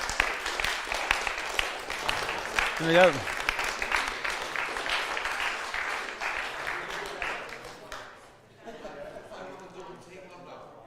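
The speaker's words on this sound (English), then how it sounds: "Round of applause." Loud applause from an audience fills most of the clip, with a short voice over it, then the clapping thins and fades near the end.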